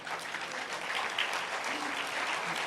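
An audience at a sermon applauds in a steady, dense patter of many hands, fairly close and continuous, with a faint murmur of voices underneath.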